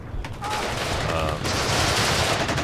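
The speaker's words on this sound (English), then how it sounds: "this German infantry is trying to break into the city, and they're shooting anything that moves on the outskirts" German infantry gunfire in the video game Warno as troops push into a city, a dense sustained fusillade of overlapping rifle and machine-gun shots that swells louder midway and stays heavy throughout.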